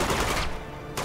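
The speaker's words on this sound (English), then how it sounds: "get close and shoot him with a pistol" Gunfire from a pistol in the action video game Uncharted 2: Among Thieves, a loud dense burst of shots packed into the first half-second, then fading into lower-level game noise before another sharp hit at the end.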